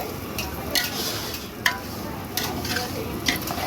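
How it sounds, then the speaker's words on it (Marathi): Large batch of coarse semolina being stirred in ghee for pineapple sheera, a steady scraping and soft sizzle with several sharper utensil scrapes against the pan, close and continuous with no talk. "त्याला तूप सुटोपर्यंत हलवत राहायचं. कमीत कमी 20 मिनिटं तरी."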